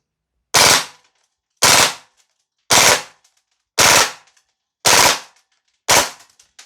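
Six separate full-auto bursts from an HK UMP .45 gas blowback airsoft gun by VFC/Umarex, each a loud, sharp rattle lasting about half a second with roughly a second of silence between them, no voices.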